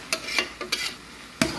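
Carrot halwa (gajar pak) made from orange carrots is stirred in a pan, with a few sharp scraping strokes and a soft sizzle between them, close and fairly quiet.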